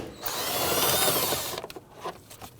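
Power tool whirring steadily for about a second and a half while backing out a 10mm bolt from the air filter box of a 2011-2015 Kia Sorento, then a few short clicks and taps, close up.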